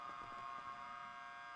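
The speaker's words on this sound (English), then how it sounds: "Your siren's on." Steady police car siren in a GTA V NoPixel roleplay game, a faint continuous electronic tone holding for the whole stretch with no talk over it.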